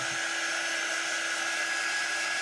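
Wax paste is buffed off a personalized round door, heard as a steady, unbroken high-pitched whine over a constant hum. It sounds close and holds the same level throughout, with no voices.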